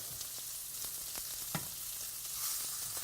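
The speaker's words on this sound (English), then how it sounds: "Will you stir it up for me, Stir it, Pat?" Food sizzles steadily in a hot pan while someone stirs it, with a few soft scrapes and knocks from the utensil above the constant frying hiss.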